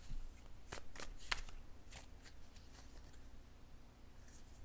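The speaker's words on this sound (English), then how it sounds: "I'm just giving them another shuffle while I connect with your energy" Tarot cards being shuffled by hand, a quick burst of crisp riffling snaps followed by softer papery sliding and tapping, close and fairly quiet with no talking.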